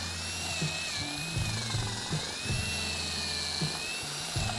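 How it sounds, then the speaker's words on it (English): A high, steady whine of a power drill drilling into a Ford F-150 truck bed runs throughout, with low thumps and knocks underneath at irregular intervals. "so I'm just gonna drill this out just a little bit,"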